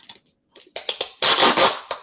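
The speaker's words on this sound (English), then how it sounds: "Sorry for the noise. That's the tape, not the artist." Scotch tape is ripped off its roll in a series of quick, loud, close crackling tugs, ending in a longer sustained peel.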